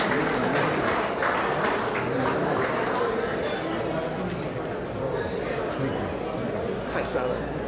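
Steady applause from the audience at the 34th annual Hermes Expo awards ceremony celebrating Hellenism, a dense, continuous wash of clapping with crowd chatter and a few clinks mixed in, holding at an even level throughout.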